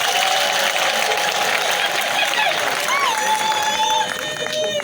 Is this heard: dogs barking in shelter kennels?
no